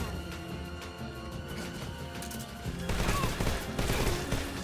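Enemy gunfire in Metal Gear Solid 4, steady overlapping shots building into a louder, denser volley partway through, mixed with game music and effects, with no talking.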